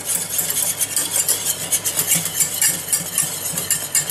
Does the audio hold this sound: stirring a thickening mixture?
yes